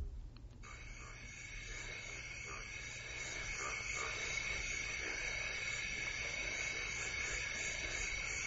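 A frog or toad calls steadily over a continuous hissing, droning background, the croaking texture carrying faintly throughout with no voices.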